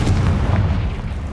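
A Confringo blasting spell explodes in Hogwarts Legacy, a loud, close, low rumbling boom that fills the moment and slowly fades.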